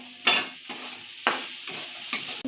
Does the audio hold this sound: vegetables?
yes